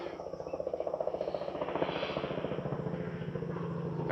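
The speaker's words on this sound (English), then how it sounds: "Helicopter." A helicopter flies over a side street near a bridge and creek, its rotor making a steady, rhythmic thumping that stays fairly close and prominent throughout, with no talking.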